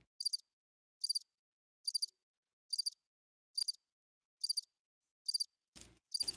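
Crickets chirping in short, evenly spaced bursts about once a second, faint and quiet against near silence, with a brief knock and a low rumble at the very end.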